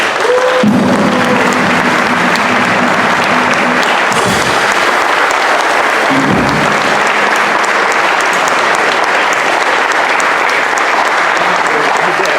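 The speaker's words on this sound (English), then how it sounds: "how about a nice warm round of applause for Dr. Craig Otwell." A concert audience at a jazz piano showcase gives a loud, sustained round of applause, steady dense clapping that fills the room, with a faint voice or two at the start.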